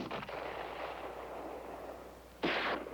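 A cannon fires outdoors in a sharp, loud burst that lingers with a short rumbling tail, coming after a stretch of steady background hiss.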